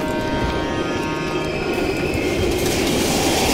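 A train rumbles past in the Call of Duty: Cold War video game, a loud, steady roll of rail cars with metallic wheel squeal and clatter. There is no speech over it.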